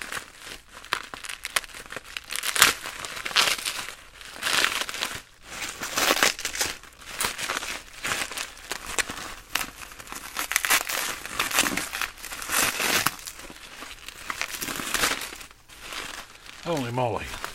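Packaging around an old-school Rockford Fosgate 4020 car amplifier is torn and crinkled open in continuous, close, loud bursts of crumpling plastic and paper, with a person talking throughout.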